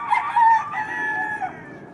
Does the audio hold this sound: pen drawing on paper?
no